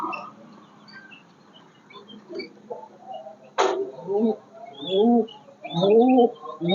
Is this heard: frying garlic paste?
no